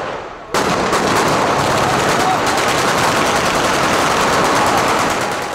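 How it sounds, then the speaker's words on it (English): Sustained, loud automatic gunfire erupts abruptly and continues as a dense barrage of rapid shots during a raid in Tripoli, Libya, heard up close. "Then, incoming fire."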